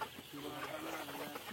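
Chickens cluck and murmur throughout a large Sonali poultry farm, a steady close flock chatter with no clear crowing.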